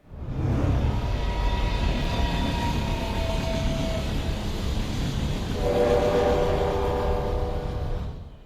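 In the video game Eternights, a train rumbles steadily while long horn or whistle tones sound over it. The rolling noise stays loud and continuous, with a second chord-like horn blast near the end.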